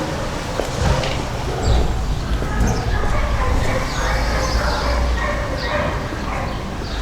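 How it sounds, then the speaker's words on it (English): Dogs bark and yip at a dog park across the street in Roma, Mexico City, scattered and moderately distant over a busy outdoor street background, with some voices mixed in. "you're gonna hear dogs all day barking."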